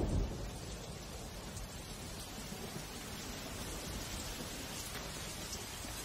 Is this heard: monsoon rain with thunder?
yes